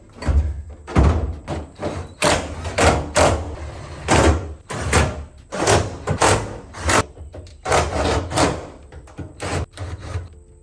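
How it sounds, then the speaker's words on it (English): Fuel tank going into a 1968 Ford Mustang: repeated knocks, thuds and scraping of the tank against the body, arriving in irregular clusters at close range. "I think it's time to put the tank in there."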